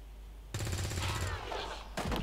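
A soldier fires a burst in XCOM 2, a loud rapid volley of gunshots after a quiet start, with a sharp second burst at the end.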